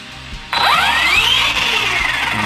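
A Kyosho Mad Van VE brushless 4WD RC monster van motor spins up abruptly and holds a steady high whine, rising in pitch then easing slightly, close and alone.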